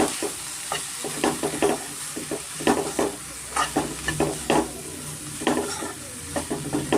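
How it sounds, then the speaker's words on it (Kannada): A spicy mushroom pepper curry with coriander powder, chili powder and garam masala fries over a medium flame, a steady close sizzle broken by repeated stirring scrapes and light clinks of the spoon against the pan. "ಸ್ವಲ್ಪ ಫ್ರೈ ಆಗಬೇಕಾಗುತ್ತೆ ಇದು ಮೀಡಿಯಂ ಫ್ಲೇಮಲ್ಲಿ"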